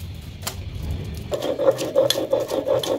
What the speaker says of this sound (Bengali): এইভাবে বাকি ভর্তাটাও বেটে নেবে